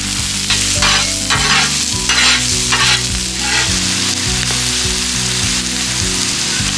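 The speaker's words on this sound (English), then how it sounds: "Blackstone 17-inch griddle, and I have a little bit of extra virgin olive oil. Diced up some onions at the house." Diced onions sizzling in extra virgin olive oil on a Blackstone 17-inch griddle, a loud, dense, close crackle with rhythmic scraping strokes running steadily throughout.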